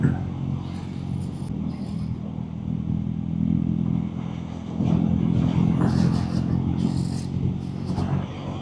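A KTM Duke motorcycle ridden slowly gives a steady, low engine rumble with mild rises in revs and road noise throughout.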